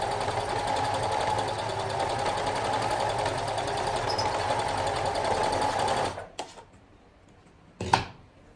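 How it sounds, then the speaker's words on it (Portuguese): A sewing machine runs fast and steady, stitching elastic into a garment waistband, a loud continuous mechanical whir that stops abruptly near the end, followed by a couple of brief clunks and handling noises. "E eu passo a costura aqui na lateral, segurando o elástico que tá no meio, entre um tecido e outro."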